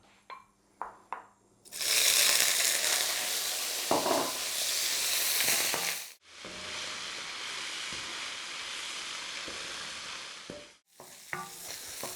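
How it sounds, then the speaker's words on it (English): King prawns stir-fry in hot rice bran oil in a wok, a loud, steady sizzle that bursts in, holds for several seconds, breaks off, then resumes, with a few soft clinks and stirring scrapes at the start. "we're just going to drop our king prawns in until they go a nice pink colour"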